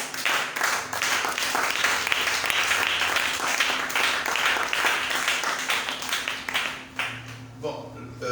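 A church congregation at a Bible seminar breaks into loud, sustained applause and cheering, dense and continuous before tapering off near the end.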